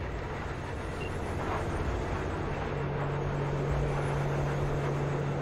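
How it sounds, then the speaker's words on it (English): A train in Cyberpunk 2077 rumbles past in a continuous, loud roar of rolling wagons with a faint steady tone above it, and no voices over it. "We're gonna race the train."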